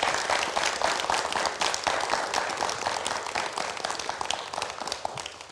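A studio audience at an Indonesian television talk show applauds, dense sustained clapping that stays loud throughout and fades slightly toward the end.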